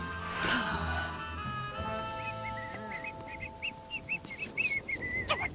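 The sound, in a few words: person whistling loudly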